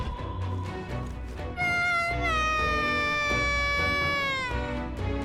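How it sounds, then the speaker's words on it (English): Cartoonish cat meow sound effect in the fantasy role-playing game Metaphor: ReFantazio, a rising then sustained tonal cry that lasts a few seconds over game music and background sound. "Someone really went meow meow"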